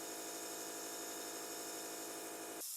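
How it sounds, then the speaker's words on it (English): An air compressor running on a model railroad workbench makes a steady, droning mechanical hum with a faint pulsing beneath it, then cuts off abruptly just before the end. "Sorry for the compressor noise."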